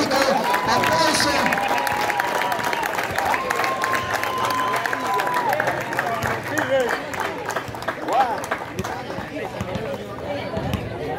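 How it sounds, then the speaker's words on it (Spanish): At a basketball tribute ceremony, a crowd claps and cheers in a dense, moderately loud burst that fades gradually, with whistles and an announcer's amplified voice over the noise. "Aplauso al fanático, aplauso."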